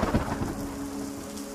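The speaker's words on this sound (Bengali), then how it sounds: "বৃষ্টির শব্দ ধীরে ধীরে চারিদিকের সমস্ত শব্দকে মিলিয়ে দিতে লাগলো" Steady heavy rain with deep rolling thunder, a rainstorm effect in a dim, twilit horror tale, filling the scene on its own with no voices and a low rumble that swells early before settling into a constant downpour.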